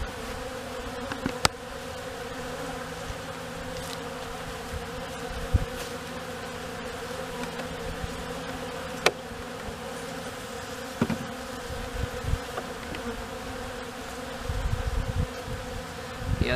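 Honey bees robbing the honey stores from a collapsed colony in an arborvitae, a dense steady swarm hum close by and continuing throughout, with faint brief knocks and rustles over it.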